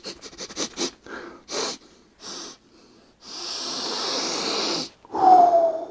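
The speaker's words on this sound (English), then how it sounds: "We got to do a sniff test." Someone sniffing a freshly opened Warhammer Land Raider Proteus plastic kit: several short quick sniffs close up, then a long drawn inhale, followed by a brief exhale.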